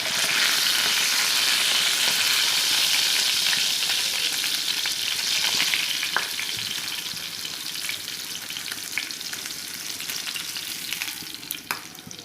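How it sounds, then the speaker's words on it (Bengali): Chicken meat sizzles loudly in a pan as it fries on both sides, with a steady crackle and occasional stirring scrapes that ease slightly toward the end. No voices. "দেখুন আমার মাংসগুলা এপিট উপিট ভাজা হয়ে আসছে"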